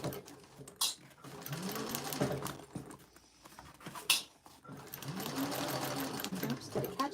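A sewing machine stitching binding on a Betty Bowler bag, running in close whirring bursts with a pause in between, while a voice talks over it at low level.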